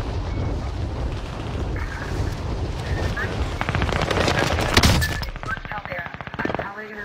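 Gunfire rattles in a Modern Warfare video game, dense rapid bursts of automatic fire that build toward a loud peak and then thin out, close and continuous, with a voice faintly underneath.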